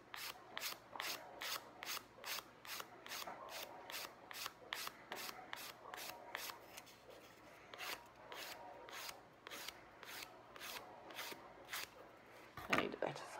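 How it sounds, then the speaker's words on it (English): A nail file rasps across fingernails during a dip-powder manicure. Quiet, close back-and-forth strokes repeat in an even rhythm that slows slightly toward the end. "So we have a file, okay. Just want to make sure it's all smoothed down."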